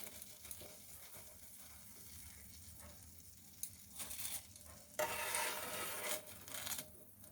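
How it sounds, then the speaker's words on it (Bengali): Egg and potato kebabs fry in oil with a quiet, crackling sizzle that swells louder in later bursts, mixed with faint scraping as they are lifted. "সব কাবাবগুলো দেখো একে একে তুলে ফ্রাই হয়ে গেছে।"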